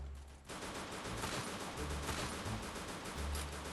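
Dense gunfire from the mobile battle-royale game Free Fire during a ranked match, a continuous rattle of overlapping shots and bursts with low thumps, loud and steady throughout.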